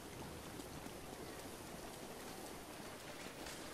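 Steady rain falling across the landscape in the video game Zelda: Breath of the Wild, a dense, even hiss of drops with no pauses and no talking, fairly quiet.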